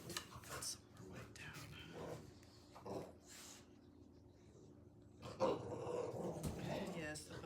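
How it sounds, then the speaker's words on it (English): Puppies play nearby, giving off soft growls and whimpers in scattered bursts over quiet room tone, with occasional faint voices. "the puppies are playing"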